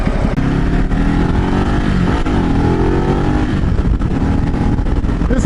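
A Ducati Multistrada 1200S motorcycle engine heard while riding, a loud, continuous throaty drone with rising and falling revs and wind noise throughout.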